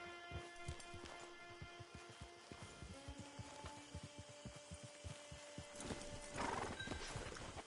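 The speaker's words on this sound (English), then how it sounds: "It's your horse." Horse hooves clip-clop in a steady walking rhythm in Red Dead Redemption 2, with a brief whinny near the end and a faint tonal hum underneath.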